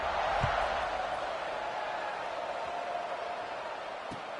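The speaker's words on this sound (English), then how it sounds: "this crowd is buzzing after that last score" Stadium crowd at a UAB at Rice football game buzzes after a touchdown, a steady, dense roar of many voices that holds at an even level from start to finish.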